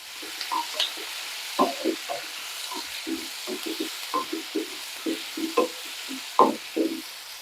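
Rock salt being sautéed in a pan while a chutney is made, with a spoon scraping and knocking in an irregular rhythm over a soft steady sizzle, close and fairly quiet.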